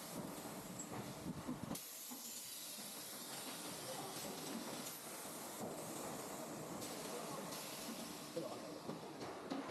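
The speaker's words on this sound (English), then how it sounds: "This equipment is packaging black molybdenum disulfide grease now." Grease-packaging machine filling black molybdenum disulfide grease in a factory packaging workshop, giving a steady hissing, rubbing mechanical noise with an abrupt shift near the start and continuous workshop din throughout.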